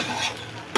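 Hot water poured into a pan of sizzling, softened biryani rice: a steady frying hiss with soft stirring scrapes, ending in a sudden loud burst of steam as the water hits the hot pan.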